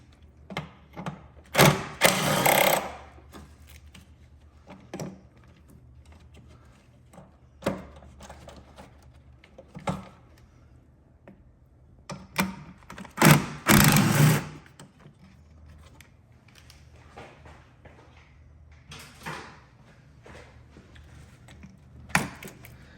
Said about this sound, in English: You just have a nut here, And then you have a bolt right here, and it takes a 10 millimeter.